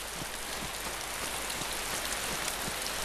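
Rain falls steadily in the survival video game DayZ, a soft, continuous hiss of drops on surfaces at low volume with no other sounds.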